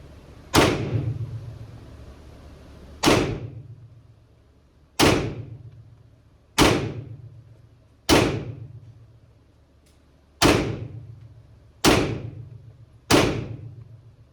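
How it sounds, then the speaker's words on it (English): Eight sharp, loud pistol shots from a Springfield Hellcat fired at about 15 yards crack out at an uneven, unhurried pace, each with a short decaying tail. "It's 10 rounds with the Hellcat at about 15 yards."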